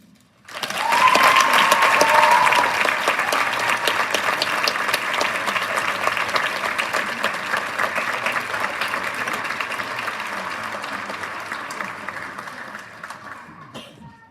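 An audience at a teacher tribute event breaks into loud, sustained applause that lasts over ten seconds, dense and even before gradually thinning out toward the end.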